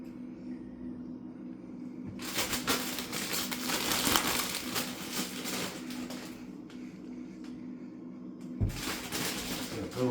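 A plastic food package crinkling and crackling as it is torn open by hand while making a mushroom burger, sharp irregular rustling bursts that come close and loud in two stretches.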